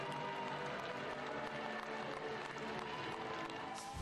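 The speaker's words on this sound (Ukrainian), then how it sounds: "Очільників опозиційної платформи «За життя» 1500-тисячна зала зустрічає оплесками" A hall of about 1500 people applauds at an opposition party congress, steady dense clapping that fills the space evenly throughout without a break.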